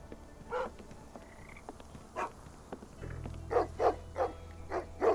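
Two dogs barking in a Sherlock Holmes video game, distant repeated woofs coming in spaced bursts over a low ambient hum, quiet and a little muffled.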